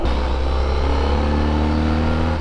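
A motorcycle cruises at about 55 miles an hour, a loud steady engine hum with clear harmonic tones and constant wind rush, no voices.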